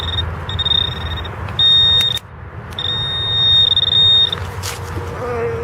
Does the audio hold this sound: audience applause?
no